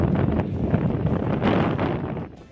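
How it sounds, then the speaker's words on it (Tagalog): Typhoon Marce's strong wind roars through trees in a dense, continuous rush with gusty surges and rustling, buffeting the microphone. "Kita ang lakas ng hangin sa mga puno."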